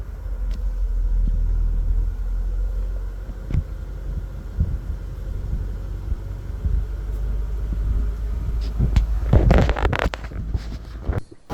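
A car driving under an old bridge at night, a low steady engine and road rumble with scattered clicks and a burst of louder knocks near the end.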